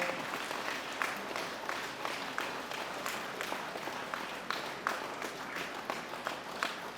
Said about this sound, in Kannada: ಚಪ್ಪಾಳೆ ಬರಲಿ ಚಪ್ಪಾಳೆ